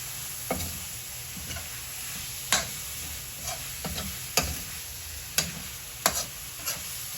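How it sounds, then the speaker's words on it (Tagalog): Pork mince sautés in a pan with a quiet, steady sizzle, interrupted by several sharp clicks and scrapes from stirring spaced across the passage. "Puti-putiin lang natin ng konti, yung parang magbago lang yung kulay ng karne."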